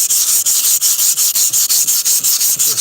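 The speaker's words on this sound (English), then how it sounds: "Just sand this thing down right there." Rhythmic hand sanding on a car's surface, close and loud, each gritty stroke pulsing in a steady back-and-forth pattern with no one talking.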